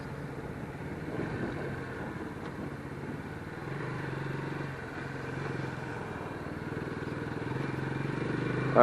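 A Lifan KP Mini 150 motorcycle is ridden along a road, its small engine giving a steady low drone mixed with wind and road rumble. The engine swells slightly near the end.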